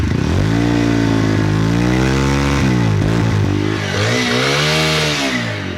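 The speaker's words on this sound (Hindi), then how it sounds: "चालू कर लेते हैं गाड़ी, मैंने स्टैंड लगाया, गेयर में आवाज़ सुनवाएंगे" A TVS Apache 160 4V motorcycle engine runs loud and close in gear on its stand, its pitch rising and falling with throttle changes over a steady rumble.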